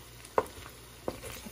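Pork fat sizzles steadily in a pan as oil renders out for Filipino igado, with two sharp scraping stirs of a utensil against the pan breaking through the constant frying hiss.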